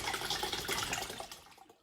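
Water splashes steadily into a jar of homemade kanji for about two seconds, a close, full pour that trails off and ends abruptly, with no talking.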